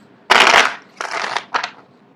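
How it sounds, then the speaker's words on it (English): Tarot cards are shuffled by hand close up in three loud, papery bursts: a long riffle, a shorter one and a brief final flurry, with no talking. "I don't know why people like to see the card shuffle live"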